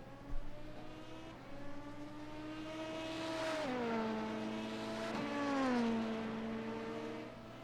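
LMP2 prototype race cars racing in a racing video game, a steady high engine whine rising and dipping through gear shifts, with another car's engine layered nearby, loud and continuous.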